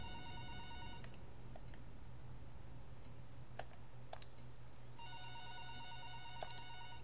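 A telephone rings in a video game at a night-shift post, with two repeated electronic trills about four seconds apart and soft clicks and taps in between, fairly quiet and with no voices.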